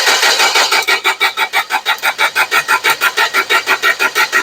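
A Toyota 4Y engine that cranks but won't start turns over steadily under the starter, giving a loud, close, rhythmic churning of about five beats per second that continues throughout without catching, with no talking.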